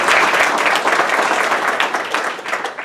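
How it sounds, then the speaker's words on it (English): A crowd at a local community gathering breaks into loud, sustained applause, many hands clapping densely and close for the whole moment with no voices on top. "give her a round of applause"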